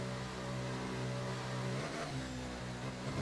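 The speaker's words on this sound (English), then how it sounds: "And now we come out of the pits to enter back onto the track." Formula 1 car engine in the F1 24 racing game revs and accelerates out of the pit lane, a loud steady high-pitched drone with the pitch climbing partway through.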